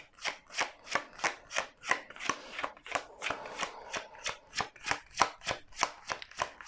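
A deck of tarot cards is shuffled in quick, even riffles, about two crisp snaps per second, close and clear with no voices.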